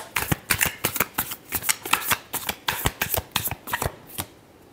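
Tarot cards are shuffled by hand in a quick series of crisp riffling bursts, about a dozen sharp papery flicks in steady rhythm, close and clear with no talking.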